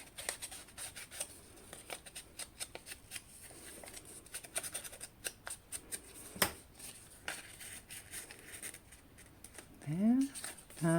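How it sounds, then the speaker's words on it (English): Scissors snip and rub through paper being aged for a junk journal, giving a run of brief crisp cuts and scratchy rustles up close, with a faint voice talking in the background. "here I'm going to be using my scissors and aging this up a bit more"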